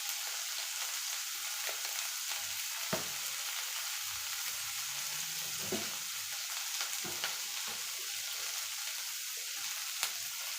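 Tomatoes with salt being stirred in a pan, giving a steady frying sizzle with occasional soft scrapes and clicks of the spoon, close and even throughout.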